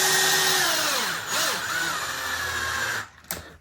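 A close electric drill with a 2.5mm bit whirs loudly and steadily, its pitch dipping briefly under load as it bores through a plastic RC car part, then the motor stops with a short clunk.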